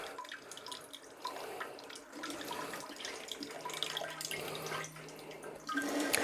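Alpha Bidet UX Pearl bidet seat in wash mode, its spray running as a steady hiss of water with dripping and splashing, moderately loud and continuous throughout without any talking.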